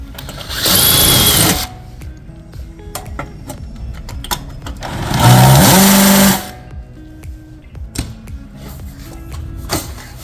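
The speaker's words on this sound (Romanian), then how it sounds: "se ia bormașina cu spiralul de 4" A power drill with a 4 mm bit whirs in two short bursts, each about a second long, with quieter workshop clatter and tapping in between.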